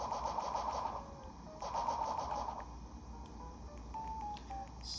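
A kitchen oven beeps in a home in a repeating electronic pattern, thin tones in short bursts that stop and restart, fairly quiet over a low steady background hum, with no voices.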